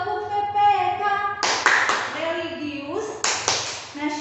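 A group of schoolchildren performs a rhythmic clap chant, sharp bursts of hand claps in a patterned sequence between chanted words.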